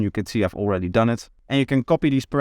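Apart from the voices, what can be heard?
No everyday noise stands out behind the speech.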